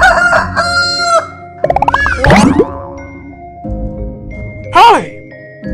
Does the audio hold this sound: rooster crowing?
yes